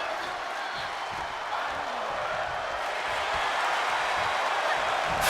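Wrestling crowd at an All Influencer Wrestling match, a dense, steady roar of many voices filling the arena and swelling slightly toward the end, with no separate commentary audible.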